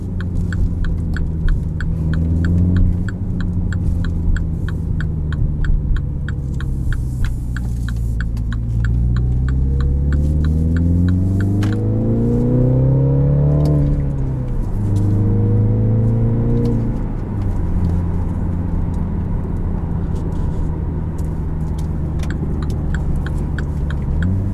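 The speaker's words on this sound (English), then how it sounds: "Automatic rev matching in sport mode." 2017 Mini Countryman S with a manual gearbox, engine heard from inside as it revs up and down with automatic rev-matching blips in sport mode, a steady droning rumble rising and falling in pitch through several shifts.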